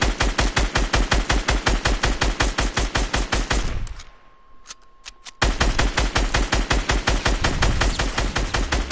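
Video game gunfire: sustained rapid automatic bursts, loud and close, broken by a short lull with a few isolated shots before the fire resumes.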